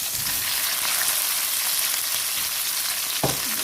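Eggplant and capsicum fry in a pan for a vegetable korma, a loud, dense, continuous sizzle with a brief stir or clatter near the end.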